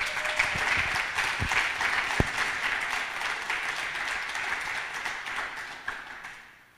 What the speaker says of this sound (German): Bitte rastet aus, macht richtig Lärm. 10 Punkte Applaus, hier ist für euch Fabian Schütz.